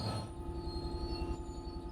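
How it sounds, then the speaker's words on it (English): Train in the Train Sim World 5 video game braking toward a stop, with a steady low rumble of wheels on rail and a faint metallic squeal running throughout, loud and close with no talking. "Bring this train to a complete stop by holding the brake control in the apply state"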